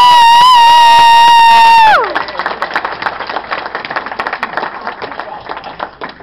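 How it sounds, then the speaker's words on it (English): A convention audience breaks into loud applause and cheering that follows a sustained tone, with clapping and shouts continuing and slowly fading. "Give them a round of applause again, folks."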